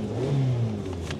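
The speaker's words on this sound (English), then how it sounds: "There's a fan belt noise, which we can hear." Engine running on a cheap used Vauxhall Zafira with a fan belt noise and an exhaust blowing from its midsection, giving a steady close whirring drone with a faint higher whine.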